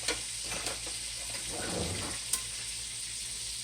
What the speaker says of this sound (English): Let those veggies sit there and simmer for a minute or two.